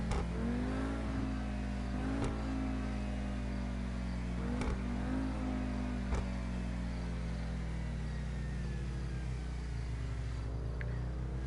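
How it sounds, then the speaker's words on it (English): A Lamborghini Huracán engine in GTA, a sustained loud mid-pitched hum that rises and falls gently as the car cruises, with a few sharp clicks and no talking. "It's a Lamborghini Hurricane."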